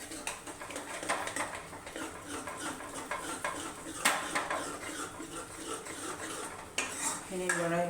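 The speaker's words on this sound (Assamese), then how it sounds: "এইখিনি ভালকৈ মই লৰাই ল'ম" Spoon stirring three spoonfuls of yogurt in a bowl, continuous clinking and scraping of metal against the dish, close and fairly quiet, with a brief splash of liquid near the end.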